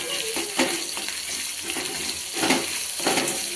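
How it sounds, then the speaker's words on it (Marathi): Onion, garlic and curry leaves fry for misal in a soft, continuous sizzle that swells in a few brief bursts as the pan is stirred. No voices are heard. "कांदा पण लाल होईपर्यंत फ्राय करायचा"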